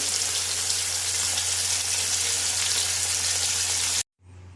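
Bhola fish frying in oil, a loud, dense and continuous hiss with a low steady hum beneath, close up and without any talk, cut off abruptly near the end and followed by a fainter sizzle.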